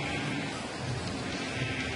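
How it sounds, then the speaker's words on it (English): Steady rain hisses as a dense, even wash of noise, with a low rumble beneath and no voices. "It's continuing to rain."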